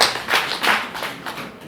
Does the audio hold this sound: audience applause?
yes